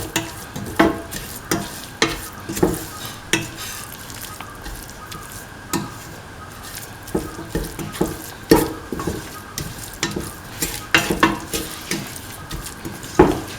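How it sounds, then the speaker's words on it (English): A spoon stirs a carrot and sugar mixture for carrot French toast, making repeated scraping and tapping strokes against the dish in an uneven rhythm, close and moderately loud with no voices. "Thoroughly mix until the sugar is nicely mixed with the carrot mixture."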